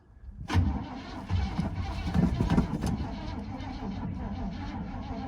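A 1975 Chevy C10 that sat for 18 years cranks loudly up close, churning unevenly and almost catching before it settles into a steady whirring drone; a voice can be heard briefly.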